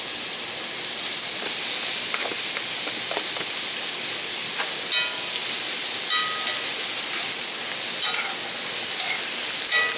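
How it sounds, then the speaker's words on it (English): Fresh garden okra sautés in a pan with a steady, close sizzle and hiss, broken by occasional scrapes and stirring clinks, with no talking. "Just going to saute that just for a little bit, just to start tendering it up."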